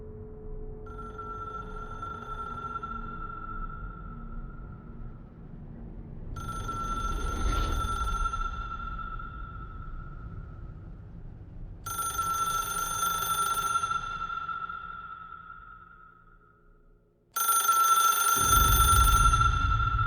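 A bell-like telephone ring in a video game repeats in long bursts with pauses, loud and close, over a low rumbling background.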